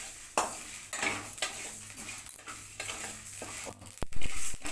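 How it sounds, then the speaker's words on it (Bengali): Spices being stir-fried in a pan for amla pickle, a close sizzle broken by repeated scraping strokes of a spatula against the metal pan and a few sharp clinks. "মশলাটা আমার ভাজা হয়ে গেছে,"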